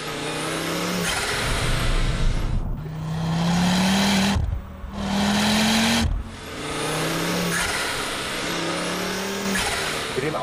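Ford Focus RS engine driven hard, revving up repeatedly through gears with rising tones, short drops at each shift, loud and close throughout.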